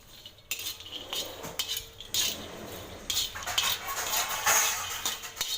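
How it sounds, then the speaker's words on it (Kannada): Peanuts roast in a pan while being stirred, giving a continuous light rattle and clink of nuts and utensil against metal, close and fairly quiet, with no talking. "ಸ್ವಲ್ಪ ಶೇಂಗಾ ಹುರ್ಕೋಬೇಕು"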